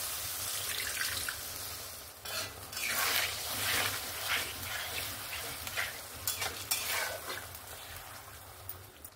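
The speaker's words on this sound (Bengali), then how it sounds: "এবার আমি এখানে পরিমাণ মতো একটু জল দিয়ে দেব।" Water is poured into a pan of katla fish curry with potato and pointed gourd, bringing a steady close sizzle with bursts of splashing and stirring, and no one talking.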